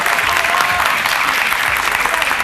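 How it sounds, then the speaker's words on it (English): Studio audience applause on a television competition show, dense and loud clapping filling the room throughout, steady with no pauses. "A round of applause"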